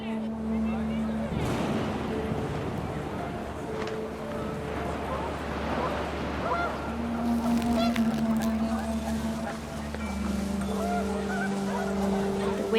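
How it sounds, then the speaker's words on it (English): Panicked geese honk in the video game What Remains of Edith Finch, scattered calls over wind and a low engine-like drone, with a narrator speaking over the top. "The wind picked up and panicked geese appeared and quickly went."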